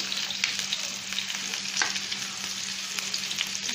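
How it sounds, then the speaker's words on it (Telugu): Chopped onion frying in hot oil for a drumstick and tomato curry, a steady close crackling sizzle with faint stirring, heard alone without talk. "ఆయిల్ హీట్ అయిన తర్వాత ఆనియన్ వేసుకుందాం"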